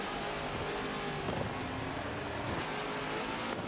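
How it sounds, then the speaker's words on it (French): GT3 race cars warm their tyres at Silverstone in a racing video game: a steady, dense engine drone with droning harmonics and slight revving swells, continuous and moderately loud. "les pilotes font chauffer les pneus"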